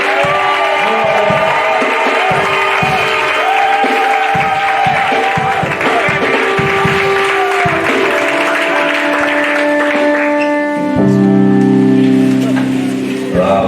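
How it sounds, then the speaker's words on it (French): A church congregation at a seminar applauds and cheers steadily and loudly, with sustained organ-like musical tones ringing over the crowd throughout. "Je dis une acclamation bien nourrie."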